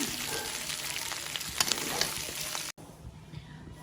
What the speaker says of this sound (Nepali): मैले चाहिँ 10 मिनट जति चाहिँ यसरी फ्राई हुन दिएँ।